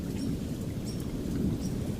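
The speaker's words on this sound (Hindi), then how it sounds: "तभी रास्ते में तेज बारिश होने लगती है।" Heavy rain falls in a steady, dense wash on a stormy day, with low thunder rumbling beneath it throughout and a few faint bird chirps above; no voices are present.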